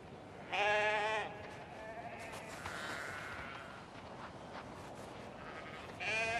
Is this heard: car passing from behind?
no